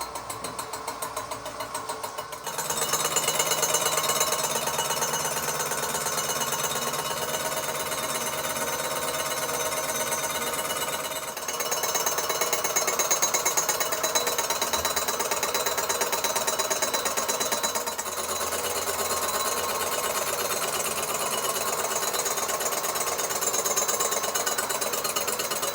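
A milling machine takes a final light cut across a Cosworth manifold, producing a loud, continuous mechanical grinding whir close up. It starts abruptly after a brief quieter lead-in and holds steady, with a couple of short dips.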